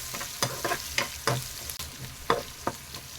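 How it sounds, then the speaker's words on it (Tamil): Onions, curry leaves and green chilli sauté in a pan with a steady low sizzle, broken by sharp scraping stirs of a spatula every half second or so, heard close up with no talk. "வெங்காயத்தை நல்லா வதக்கி விட்டுடலாங்க"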